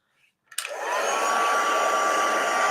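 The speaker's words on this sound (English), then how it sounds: "Heat this up with our heat gun." A heat gun switches on after a short quiet moment with a click, then blows hot air in a loud, steady whooshing roar with a constant high whine, close and uninterrupted to the end.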